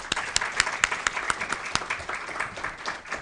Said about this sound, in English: Could we please give our innovators a round of applause